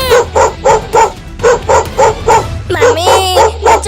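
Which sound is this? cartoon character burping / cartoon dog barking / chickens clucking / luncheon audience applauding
cartoon dog barking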